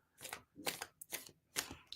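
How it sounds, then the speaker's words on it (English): Tarot cards are shuffled in four quick, crisp bursts of riffling, close and distinct, with short gaps of near silence between them. "Give him a good shuffle."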